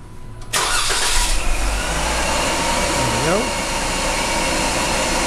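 A supercharged 2012 Jeep Wrangler JK with the automatic Pentastar engine cranks and fires up on a dyno, then holds a loud, steady, close-up roar.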